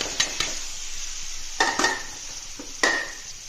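Potatoes go into a pan with fried spices, cumin and coriander powder, for a banana-flower chop. A utensil scrapes and clinks against the pan in a few sharp knocks over a soft sizzle.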